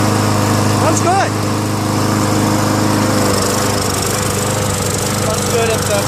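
A Yard Machines MTD 6.75 push lawn mower engine, with a leaking carburetor, runs steadily and loudly at close range, with a constant droning hum throughout and faint human sounds briefly over it near the start.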